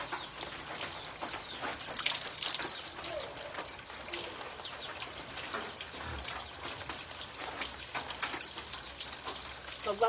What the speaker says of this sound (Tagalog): Maulan sa amin ngayon.